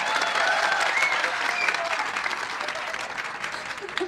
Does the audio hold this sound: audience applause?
yes